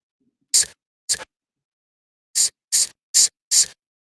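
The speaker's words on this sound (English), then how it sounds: "that is literally like a hi-hat there" Crisp hi-hat hits made from vocal samples in Ableton Live: six short, bright, hissy ticks, two early, then four in a quick even run after a gap, with no other sound.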